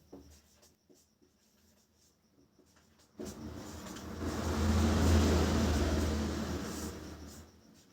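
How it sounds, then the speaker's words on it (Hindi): Chalk or marker strokes scratch faintly across a board during a Hindi-language class 6 science lesson, a series of soft rhythmic taps and scrapes, then a loud rumbling engine-like noise swells and drowns them out. "यहां से हम लोग लिखेंगे"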